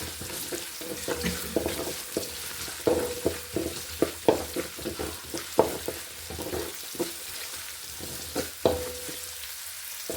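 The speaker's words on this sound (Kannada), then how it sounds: "ಪಾಲಕ್ ಹಸಿ ಬಟಾಣಿನೂ ಹಾಕ್ತಿದ್ದೀನಿ" Green peas frying in a pan for spinach palak rice, with a steady sizzle broken by repeated scraping stir strokes of a spoon, close and fairly loud, with no voices.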